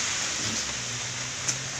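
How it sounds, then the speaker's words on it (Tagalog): Steady rain falls outdoors, a dense, even hiss of drops that holds at a constant level throughout, with one faint tap near the end. "Basang-basa tayo sa ulan"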